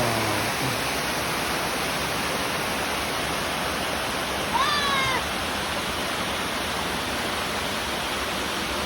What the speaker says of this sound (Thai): ที่นี่น้ำตกห้วยพ่อ